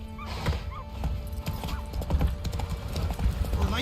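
A horse gallops in The Witcher 3 video game, rapid clip-clop hoofbeats with an occasional whinny, close and fairly loud over a game soundtrack.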